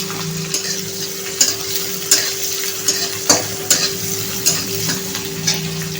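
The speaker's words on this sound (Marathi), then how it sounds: "आता आपण कांदा टाकूया। कांदा छान लालसर करायचा आहे आपल्याला।" Onion frying in a pan for a potato bhaji, a steady sizzle with regular scraping strokes of a spoon stirring about once a second, close and clear with no talking.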